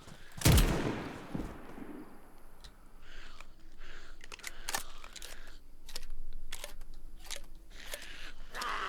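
Weapon reload in the video game DayZ: a loud sharp bang opens, followed by a series of crisp metallic clicks and clacks spaced irregularly over the next several seconds.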